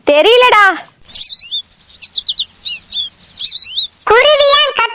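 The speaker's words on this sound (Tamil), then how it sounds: "குருவி ஏன் கத்துதுன்னு தெரியுமாடி?" A sparrow chirps in quick bright bursts, its calls close and clear, set between a voice speaking at the start and again at the end.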